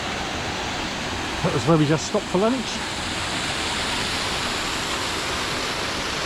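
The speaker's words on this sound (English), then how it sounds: "it overlooks the pond and the waterfall" Steady broadband rush of a waterfall spilling into a pond, heard from a garden viewpoint at Woolbedding, constant and moderately loud throughout, with a brief stretch of talk near the start.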